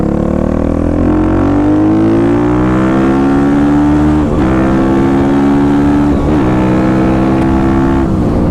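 A 2021 Kawasaki KLX350SM supermoto motorcycle ridden hard through corners, its single-cylinder engine droning loud and steady with rising and falling revs as it powers out of each bend, with no voices.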